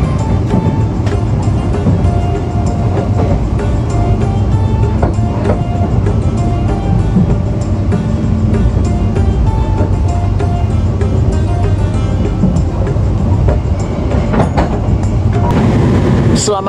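Heavy low rumble of the Jaka Tingkir passenger train rolling into Cikarang station, steady and loud with rattling and clanking throughout, some faint background voices.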